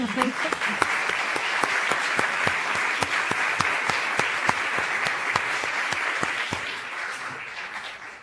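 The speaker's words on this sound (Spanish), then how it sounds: "darles un aplauso a los" An audience at an academic round-table symposium applauds the speakers, sustained clapping with sharp individual claps standing out, steady until it tapers off near the end.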